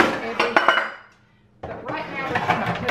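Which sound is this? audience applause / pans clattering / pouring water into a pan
pans clattering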